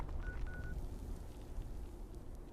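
A phone notification chimes twice as short, thin electronic beeps, quiet against the rumbling background of a Fallout 76 game session.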